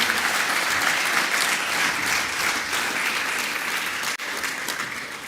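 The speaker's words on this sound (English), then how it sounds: "Let's give those grade 9s a round of applause." A hall full of people at the St Andrew's College Speech Day 2020 gives steady, loud applause for prize-winning grade 9 pupils. The clapping breaks off for a split second near the end, then resumes.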